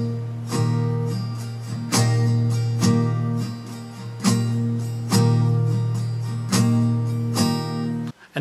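Slow acoustic guitar strumming pattern, chords struck in an even repeating cycle with an accented up stroke each round, close and loud with no voice.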